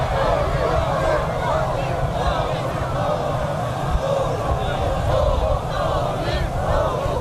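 A large crowd in Pyongyang cheers and shouts continuously, a dense roar of many voices. A broadcast narrator speaks over it the whole time.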